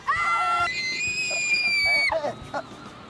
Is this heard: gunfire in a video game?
no